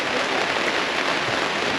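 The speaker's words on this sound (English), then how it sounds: "in the rain." Steady, dense patter of rain falling on a surface at an off-grid campsite at Pender Bay on the Dampier Peninsula, constant and fairly loud throughout, with no voices.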